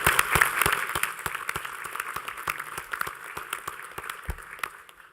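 Round of applause from the audience at a veterans summit, with distinct sharp claps standing out over a thinner background of clapping that gradually tapers off.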